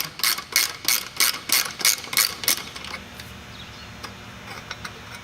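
A ratchet wrench clicks in quick repeated bursts while loosening a bolt on the spare tire fuel can holder of an FJ Cruiser, about eight rapid ratcheting strokes close up, then it stops and only faint background noise remains.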